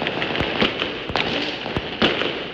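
Fireworks and firecrackers bursting on the last night of Chinese New Year, several sharp loud bangs at irregular intervals over a dense bed of distant crackling.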